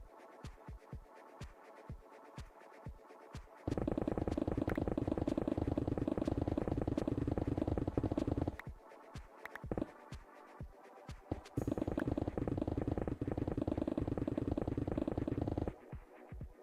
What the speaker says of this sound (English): That's the sound of someone moving their trash can.